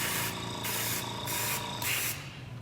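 Colored cocoa butter sprayed into chocolate molds, heard as bursts of airbrush hiss, four or five in a row with short gaps, over a steady room hum with no talking.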